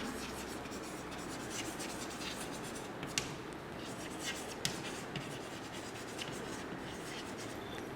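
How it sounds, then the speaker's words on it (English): Marker or chalk scratching out digits on a board during a fifth-standard maths class, a steady soft rubbing texture with a couple of sharper taps, close by and with no one talking. "I will write the 7-digit number here."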